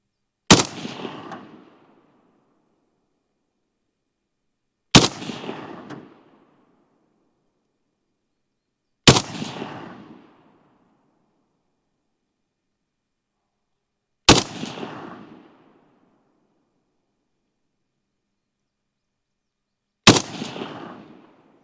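Five loud, sharp AK-style rifle shots, a PSA GF3 or Zastava M70, fired one at a time at a target on an outdoor range, spaced roughly four to five seconds apart, each with a short echoing decay.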